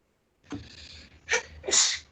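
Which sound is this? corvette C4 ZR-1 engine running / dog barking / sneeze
sneeze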